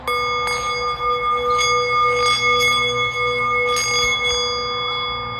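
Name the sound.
bell ringing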